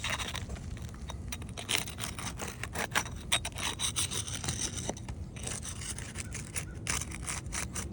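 Aged asphalt roof shingles being loosened on a house roof, giving a continuous gritty scraping and rubbing with small irregular bumps, close and steady for several seconds.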